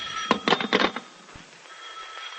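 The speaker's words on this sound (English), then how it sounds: "the way some people ring doorbells" A doorbell rings in several quick, insistent bursts, then stops, leaving a quiet room hum.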